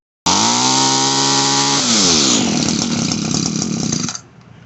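Echo SRM-2400 string trimmer two-stroke engine, just repaired at the carburetor and fuel line, starts up and runs loud and close for about four seconds, revving up then settling before cutting off abruptly.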